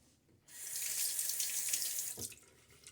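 Water tap running for a rinse after a shave, a steady close hiss of water into a sink lasting under two seconds before it shuts off.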